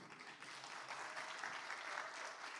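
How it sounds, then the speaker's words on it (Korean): Church congregation breaks into applause during a revival meeting, a soft, distant patter of many hands that holds steady and swells slightly mid-way, with no talking over it. "우리 박수"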